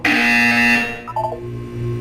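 Portal 2 test-chamber buzzer: a loud harsh electronic buzz that holds for most of a second before cutting off, followed by fainter electronic tones.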